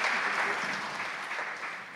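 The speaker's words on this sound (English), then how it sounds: "Give them another round of applause." Applause from a church congregation during a Sunday service, a steady wash of many hands clapping, moderately close and fading slightly toward the end, with no voices over it.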